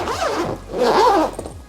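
The zipper on a Level8 Road Runner carry-on suitcase is pulled open in two close, raspy sweeps, the second longer and louder.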